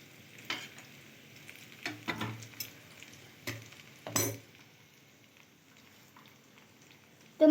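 Masala idli pieces fried in a pan, a quiet sizzle broken by several clinking scrapes of a spatula or spoon against the metal, ending with a louder knock.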